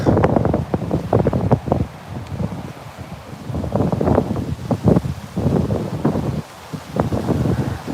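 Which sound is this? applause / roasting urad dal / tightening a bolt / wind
wind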